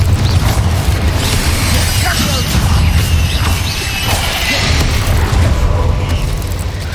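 A Confringo blasting spell explodes in Hogwarts Legacy, a heavy, rumbling boom with crashing debris that rolls on for several seconds, deep and loud, with a brief spoken word mixed in.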